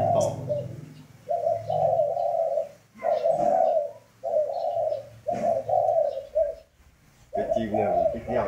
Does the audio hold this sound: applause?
no